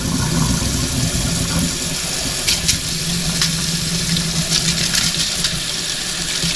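Water and copper coins, cleaned metal-detecting finds, pour from a rock tumbler through a kitchen sieve in a steady rushing wash, with faint clinks of metal throughout.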